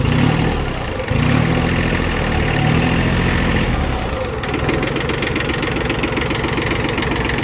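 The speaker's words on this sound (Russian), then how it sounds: "Работает вполне себе нормально для подобного трактора." A Yanmar F1 mini tractor engine cranks and catches, then settles into a loud, steady knocking idle close by.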